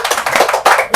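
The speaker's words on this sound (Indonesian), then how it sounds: "Tepuk tangan dulu dong." An audience at a talk event on environmental management claps briefly, a quick scattered patter of hands that swells in short bursts, close and fairly loud.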